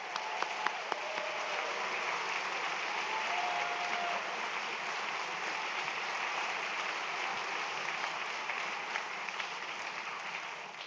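Sustained audience applause for author David Baldacci at a book festival opening address, a dense, steady wash of many hands clapping that carries on evenly for the whole stretch with no one talking over it.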